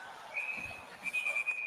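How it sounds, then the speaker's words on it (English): A referee's whistle sounds at an ice hockey game, two shrill blasts over faint arena crowd noise. "And a whistle here."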